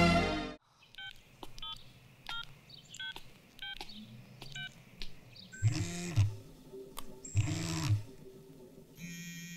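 A telephone dials out with a quick run of clear DTMF key beeps, followed by two loud bursts of ringback tone on the line, with no voices.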